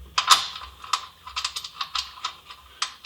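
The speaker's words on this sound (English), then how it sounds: "Just screwing in the lower bolt there, and we'll put the top bolt on." A hand ratchet tightens the lower shock bolt during a lift install on a vehicle, giving a close series of sharp, rhythmic clicks with short pauses between strokes.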